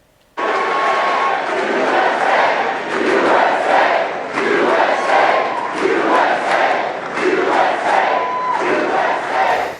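Political rally crowd before Trump's announcement speech, a large roaring mass of cheering and chanting that starts abruptly and holds loud and sustained, swelling in waves.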